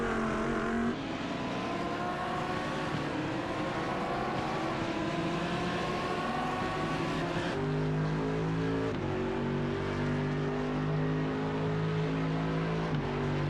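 Race cars lapping Laguna Seca in an iRacing GT sprint race, a dense, steady layered engine roar with shifting pitches as several cars rev, shift and pass, loud and continuous throughout with no talk.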